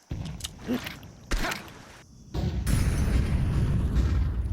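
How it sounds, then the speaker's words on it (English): Flashbang grenades go off during a Counter-Strike match, with a couple of sharp pops early on, then a loud burst that gives way to a sustained roar of blast noise and ringing. "XSC's setting up the flashbangs here."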